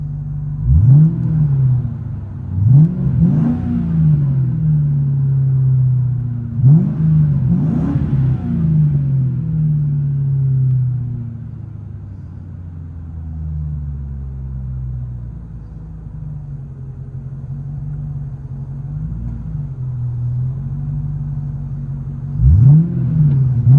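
From inside the cabin, the 4.6-liter V8 of a 1997 manual Ford Mustang GT with Flowmaster Flow FX exhaust idles in a low, steady drone, broken by several quick rev blips spaced apart.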